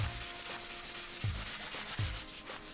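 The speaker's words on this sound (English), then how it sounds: "Now we just need to sand it a bit to take down the high spots" Rhythmic hand sanding of dried spackle on drywall with a fine-grit sanding block, a rough rubbing scrape repeating back and forth in steady strokes, close and fairly loud.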